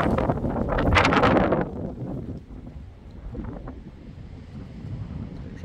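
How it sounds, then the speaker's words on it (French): Strong gusty wind during storm Herminia, roaring loudly against the microphone for the first second and a half before easing into a steadier, lower rush with smaller gusts. "J'entends du vent qui arrive derrière."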